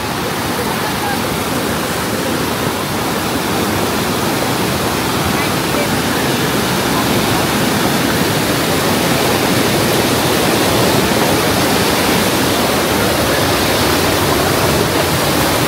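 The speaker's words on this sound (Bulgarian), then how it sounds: "О, тук пак ще има водопадче." A waterfall at Plitvice Lakes in Croatia roars loud and continuous, a dense unbroken rush of falling water up close that does not change for the whole stretch.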